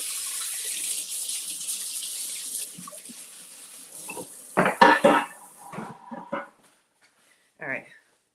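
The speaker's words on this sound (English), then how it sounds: "let me make some space here and rinse this out" Water runs from a kitchen tap as a pan is rinsed, a steady broadband rush for several seconds, then clanks and knocks of cookware in the sink, near and fairly loud, with no talk.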